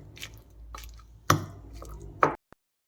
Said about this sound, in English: let's add the potato and we'll mash it without adding any water